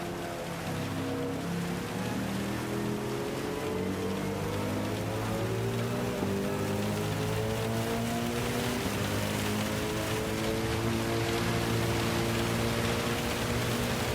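Steady rain hiss in Gran Turismo 7 during a race at the Nürburgring, a constant even wash of noise throughout with a low engine drone underneath, no voices.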